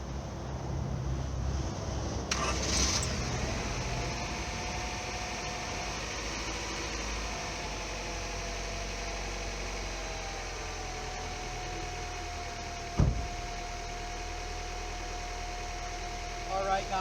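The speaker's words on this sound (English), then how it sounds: "let's give it a cold start" A 1999 Honda Prelude fires up from cold after a brief crank and settles into a steady idle, a constant engine drone with a faint whine under broadband hiss and one sharp knock near the end.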